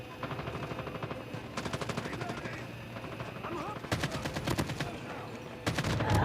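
Bursts of automatic gunfire from bots in the mobile shooter Call of Duty Mobile, rapid rattling volleys that come and go in several clusters, with a player talking over the game sounds.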